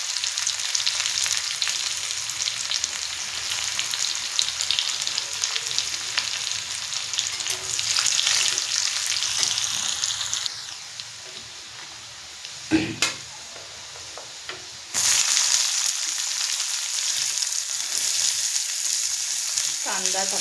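Garlic frying with cumin seeds in hot oil in a pan, a loud close crackling sizzle that drops away briefly midway with a sharp clatter, then returns just as strong.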